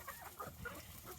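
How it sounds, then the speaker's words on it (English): A rooster and hens cluck softly on a farm with goats, a few faint, scattered clucks against steady outdoor background noise, no talking. "There goes the rooster."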